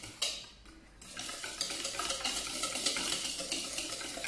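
Egg yolks are whisked by hand in a bowl, a steady, fast, close scratchy rhythm of whisk against the bowl that continues without pause after a short opening clank.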